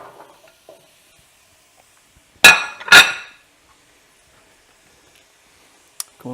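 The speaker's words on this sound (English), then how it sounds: "I'm going to add in the vegetables." Vegetables drop into a pot of melted butter in two quick, loud sizzling, clattering bursts, then quiet follows with one brief clink.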